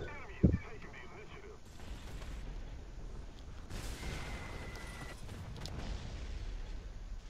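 Bombs exploding in War Thunder, with Russian tier 4 vehicles in play: a sharp heavy blast near the start, then a sustained rumbling roar of battle noise and a brief whistling tone, with a voice talking faintly under it.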